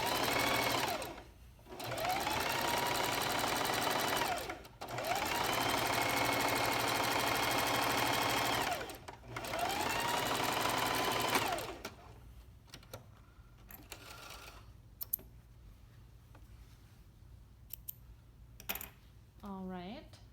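Domestic sewing machine stitching a lining seam in three long continuous bursts separated by short pauses, loud and close, followed by quieter handling noises and faint clicks.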